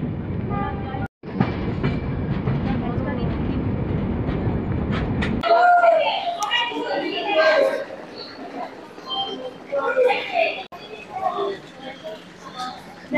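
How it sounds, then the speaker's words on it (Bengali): Train pulling into New Jalpaiguri (NJP) station: a loud steady rumble of wheels and carriages for the first few seconds, then quieter station ambience with squeals, clanks and voices of people nearby. "ট্রেন আমাদের একদম রাইট টাইমে ঢোকাচ্ছে, 10 মিনিট লেট। আমরা এনজেপি ঢুকছি।"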